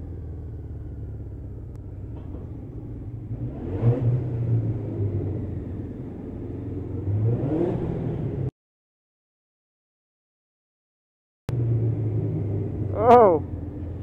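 A Suzuki GSX-R1000 superbike engine rumbles steadily while riding, rising in two revving swells, then cutting out to silence before returning with a sharp high-pitched burst near the end.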